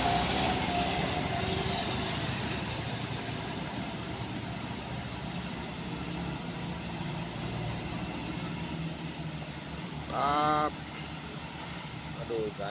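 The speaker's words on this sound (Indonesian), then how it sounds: "Ini dia kalau diesel Super HDX sudah langsung digas." Colt Diesel Super HDX truck engine under throttle, a heavy, rumbling drone that holds steady for many seconds with a brief rise near the end, while people talk over it.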